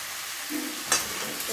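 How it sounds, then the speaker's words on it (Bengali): Drumstick and potato curry gets a brief stir in a frying pan: a soft sizzle with one sharp scrape of the utensil partway through, close and short. "এটা এবার মিক্স করে নেব।"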